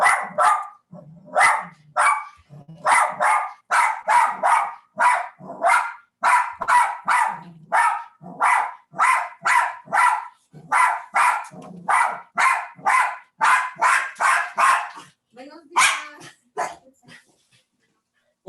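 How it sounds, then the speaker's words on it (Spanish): A dog barks aggressively in a loud, close run of sharp, evenly spaced barks, with growls and a whimper mixed in. The barks slow and fade out near the end, and no voices are heard. "Un claro ejemplo es el perrito que ahorita se puso agresivo."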